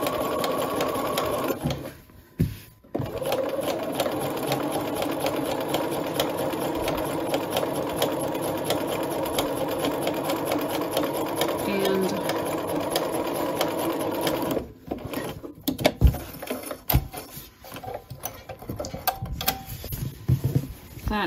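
A sewing machine basting the hem of a wrap skirt runs in a steady, fast mechanical patter for most of the stretch, with a brief pause near the start and a few stops and restarts toward the end.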